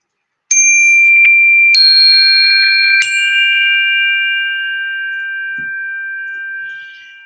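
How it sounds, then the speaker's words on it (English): Chimes and singing bowls ring out in a quiet room, three clear metallic strikes in quick succession, each tone sustaining and slowly fading into a long shimmering decay with no talk. "There's something really nice about chimes and bowls that sing"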